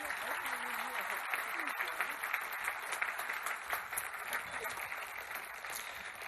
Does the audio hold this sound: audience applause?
yes